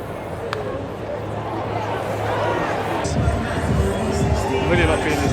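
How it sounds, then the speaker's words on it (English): A crowd at a Toronto baseball stadium roars and cheers, a broad sustained swell of many voices that grows fuller partway through, close and loud over the ballpark din. "the crowd are suddenly a lot more into it"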